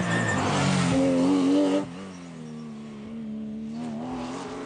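A Porsche rally car in the 2011 French Rally Championship drives past with a strong engine drone. It revs loudly and sharply at first, then settles into a steadier, quieter tone as it moves away.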